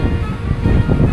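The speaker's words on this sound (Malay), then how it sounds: "Angin kuat." Strong wind buffets the microphone outdoors, a steady low roaring rumble with gusty surges, loud and continuous with no voices.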